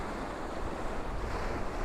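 Sea waves washing in against the pier at St Monans, a steady broadband wash with some wind buffeting on the microphone, continuous and fairly close throughout.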